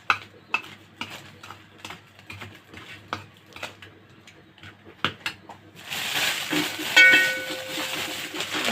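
Chicken wings are stirred with spices and black pepper in a bowl, giving a run of quick, irregular wet clicks and taps, followed by a louder rustling, scraping clatter near the end.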